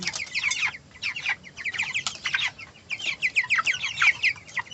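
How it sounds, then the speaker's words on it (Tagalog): Young broiler chickens, seventeen days old, cluck and cheep in a dense, continuous chorus of many overlapping short calls, fairly close and steady throughout. "update ko kayo sa aking mga broiler chicken"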